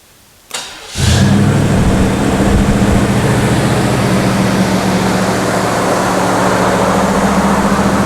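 A crappy Camaro engine cranks and catches, then settles into a loud, steady high idle around 7,000 RPM, droning close by with no voices.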